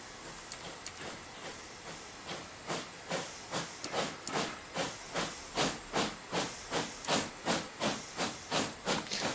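Rhythmic steam exhaust from an LNER Y6 steam locomotive in a video game, a fast series of evenly spaced hissing chuffs that grow louder and steadier, continuing alone.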